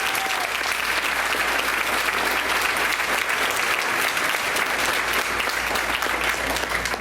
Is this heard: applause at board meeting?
yes